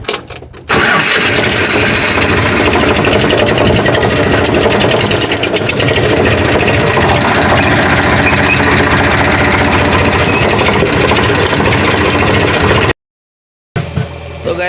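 A JCB backhoe loader running on a farm gives a loud, steady mid-pitched diesel engine drone that carries on without a break, cuts out briefly near the end, then starts again.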